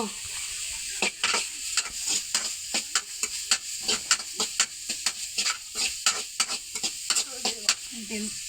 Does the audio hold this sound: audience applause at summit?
no